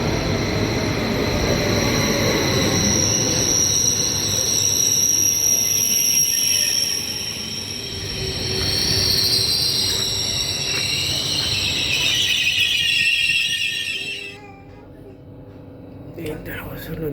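A train pulling into Kløfta station in Norway, a loud rumbling approach with high squealing wheels that builds and then eases as it slows, with a person speaking over it.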